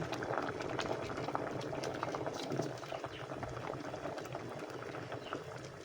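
Mung bean stew with mixed vegetables and coconut milk bubbles in a pot, a steady close gurgling boil with soft liquid pops throughout.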